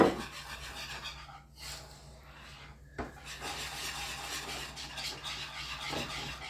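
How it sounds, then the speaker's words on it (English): Powdered sugar being whisked into Coca-Cola cake frosting in a bowl, soft scraping and clicking strokes of the whisk against the bowl, fairly quiet and irregular, close by, with no talk. "3 cups of powdered sugar. Whisk that all in."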